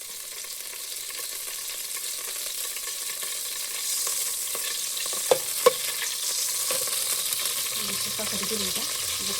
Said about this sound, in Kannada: ಫಸ್ಟು ಒಂದು ಸ್ಪೂನ್ ತುಪ್ಪ ಹಾಕೋಬೇಕು.